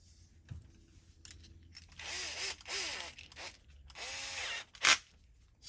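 A power drill drives M2.5 screws into an RC rock crawler in short whirring bursts with pauses between, close by, ending with a sharp click.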